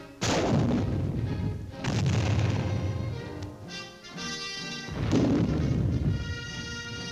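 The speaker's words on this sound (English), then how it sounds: "There are heavier weapons, such as the new rocket launchers, designed to be employed against tanks and armored vehicles." Powerful military rocket launcher blasts, heavy anti-tank weapons firing, three loud booming discharges each followed by a long rumbling decay, with no talking.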